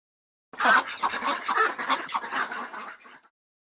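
A duck quacks in a rapid, nasal run of calls lasting about three seconds, loud and close, with no other sounds around it.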